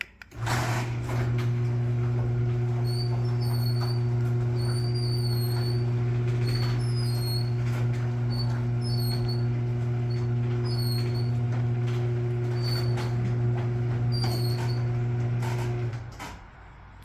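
A LiftMaster opener hums steadily as it raises an 18 by 9 foot Ideal garage door, a loud continuous motor drone with chain rattle and small repeated squeaks, lasting about fifteen seconds before cutting off.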